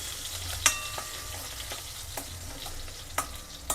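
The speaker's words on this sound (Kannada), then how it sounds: "ಸ್ವಲ್ಪ ಫ್ರೈ ಆಗಬೇಕು ಆಲೂಗೆಡ್ಡೆಗೆ ಸ್ವಲ್ಪ ಬೆಳ್ಳುಳ್ಳಿಗೆ ಹಾಕಿದ್ರೆ ಚೆನ್ನಾಗಿರ್ತದೆ" Potatoes and garlic frying in a pan for an aloo methi dish, making a quiet continuous sizzle with a few sharp spatula scrapes and taps, close by and without speech.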